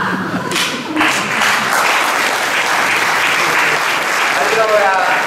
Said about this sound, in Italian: non ho sentito bene l'applauso